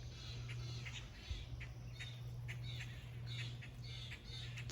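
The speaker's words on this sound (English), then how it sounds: "It's early morning. Birds are out and about." Birds calling in a garden in early morning on a June day, faint scattered chirps and calls over a quiet, steady low hum, heard some distance away.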